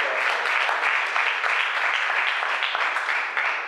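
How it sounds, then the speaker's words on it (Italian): Audience applause at an Italian press conference for a charity dance telethon, sustained, lively clapping from a sizable crowd filling the room throughout. "facciamo un applauso."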